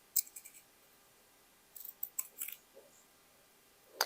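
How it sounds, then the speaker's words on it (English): Scissors snip through fabric for a boho shawl in several short, close, crisp bursts, scattered across a quiet background with pauses between cuts. "So I will cut it this way."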